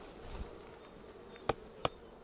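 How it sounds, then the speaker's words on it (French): Honeybees buzz softly around a hive frame during a spring inspection, a faint continuous hum with a couple of sharp brief clicks toward the end. "Il y a les abeilles qui sont dessus."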